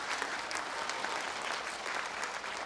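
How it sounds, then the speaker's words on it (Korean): Sustained applause from a seminar audience at a Buddhist Jogye Order event, broad and steady clapping filling the hall for a few seconds without pause. "총무원장 큰 스님께 다시 한번 큰 박수 부탁드리겠습니다."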